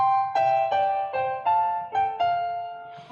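A Lowrey organ plays a melody with a harmony note voiced above it, about seven sustained chordal notes changing in steady succession, bright and clear with no talking.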